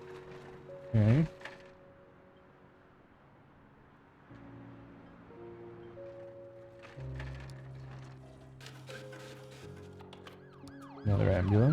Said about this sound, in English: Another ambulance.